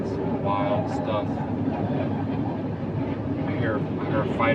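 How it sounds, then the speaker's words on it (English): An F-15 Eagle fighter jet passes overhead as a loud, steady broadband roar that fills the whole stretch while people talk over it. "I hear a fighter jet just went over it."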